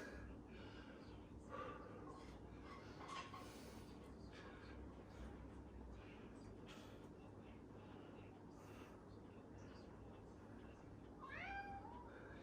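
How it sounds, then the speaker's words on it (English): A cat meows a few times, fairly faint and somewhat distant, over a steady low background hum with a rising meow near the end. "It's my boy Benji meowing."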